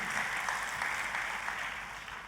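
Congregation applauding during a church sermon, a steady, fairly faint wash of clapping that holds evenly from start to finish with no voices over it.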